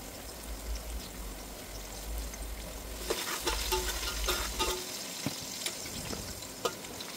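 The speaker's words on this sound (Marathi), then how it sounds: "आता कांदा छान भाजू द्यायचा" Onions fry for mutton pulao, a steady close sizzle with a low rumble of the hob underneath, and a few sharp scrapes and taps of stirring toward the end.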